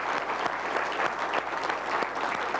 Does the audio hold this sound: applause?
yes